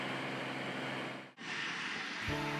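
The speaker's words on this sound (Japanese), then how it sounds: "セスナが空港に到着。" A Cessna light aircraft engine drones steadily as the plane arrives at an airport, a continuous broad roar that briefly dips to near silence before resuming, moderately loud and without voices.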